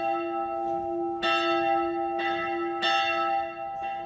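A church bell rings with several clear, resonant strikes spaced about a second apart, each leaving a sustained ringing tone, moderately close with no voices.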